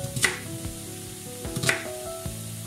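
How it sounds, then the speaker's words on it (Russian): A knife chops an onion on a board in a few sharp, spaced taps, with a faint sizzle of mushrooms frying in the background. "Тем временем нарезаю лук"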